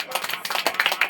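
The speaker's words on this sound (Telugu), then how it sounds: "చేతులెత్తి గట్టిగా చప్పట్లు కొట్టండి." A church congregation at a fasting prayer service claps hands loudly in a fast, steady rhythm of dense overlapping claps, close and continuous throughout the short stretch.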